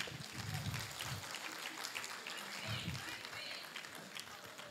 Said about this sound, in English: The applause could be better.